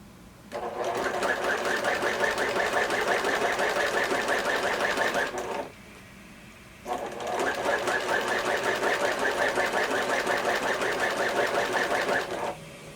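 A sewing machine stitching the last edge of a fabric face mask, running in two long steady bursts of rapid rhythmic clatter, close and loud, with a brief pause between them.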